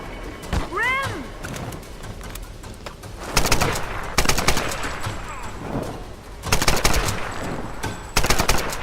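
Gunfire in the video game Tomb Raider: several loud bursts of rapid shots in separate volleys, with a short rising chirp early on and steady game background noise between the bursts.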